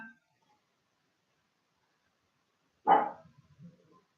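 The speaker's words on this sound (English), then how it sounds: "Who are you barking at?" A single short bark from an indoor pet dog sounds up close after near silence, followed by a few quieter trailing yips.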